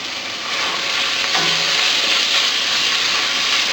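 Thinly sliced pork dropped into a pot of softened onions, sizzling and hissing steadily and loudly throughout, with a brief clatter of stirring partway through.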